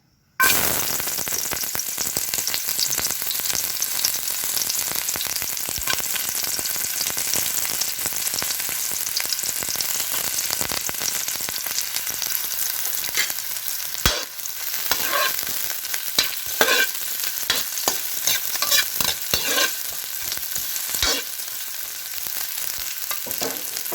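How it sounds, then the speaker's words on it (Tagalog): Onions sautéing in hot cooking oil for bistek tilapia, a dense continuous sizzle with crackles and occasional sharp pops and utensil knocks, close and steady throughout. "Tapos, gisa nyo yung sibuyas"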